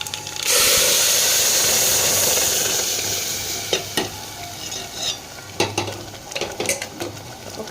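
Lentils tipped into a pan of sizzling fried onion tempering for ridge gourd dal, then stirred: a steady loud frying hiss that eases as spoon scrapes and clinks punctuate the second half, with no talking.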